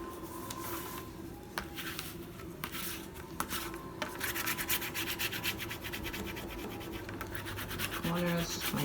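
Fingers press and rub along the glued edges and corners of a handmade journal cover, a close, continuous scratchy rubbing with occasional taps and a short bump near the end.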